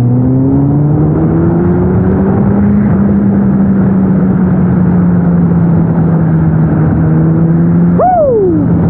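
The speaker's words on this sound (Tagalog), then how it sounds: "Yung response ng kanyang makina, ang bilis." A 2020 Kawasaki Z900 inline-four motorcycle engine holds a loud, close, steady high idle that drifts slightly in pitch, then revs sharply in a quick rising and falling blip near the end.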